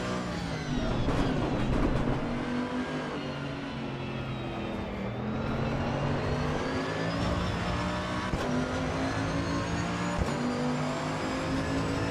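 Powerful race car engine in a racing video game, revving hard and accelerating through gear changes, with a continuous loud engine whine rising and falling, no voices.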